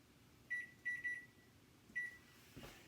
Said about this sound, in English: Okay, I'm going to set the microwave timer for 2 minutes.